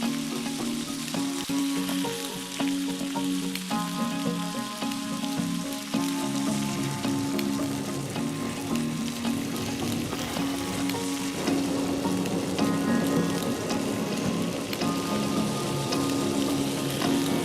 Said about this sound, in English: I'll just be flipping this steak and repeating the flame broil on the other side as well.